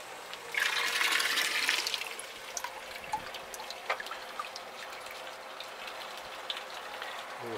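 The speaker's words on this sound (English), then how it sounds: "Water's flowing in at a good rate." Water pours into the buckets of a hydro lifter water wheel that drives a gravity light: a loud, splashing rush in the first seconds, then a quieter steady trickle with scattered drips, close by and without talk.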